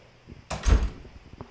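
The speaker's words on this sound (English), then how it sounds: "All right, let's close the door." A dorm room door swings shut with a single solid thud, close by in a quiet room, followed by a faint click.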